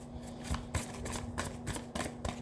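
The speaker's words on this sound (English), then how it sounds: "I'm going to give it one more good shuffle here." Quick riffling bursts of shuffled cards repeat in a steady rhythm, close and fairly quiet, with a faint steady hum underneath.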